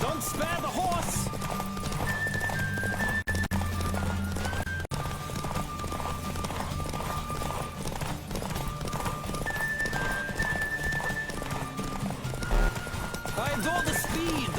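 Horse galloping in The Witcher 3, a steady clip-clop of hooves with an occasional whinny over game music and ambient wind, with a voice talking over it.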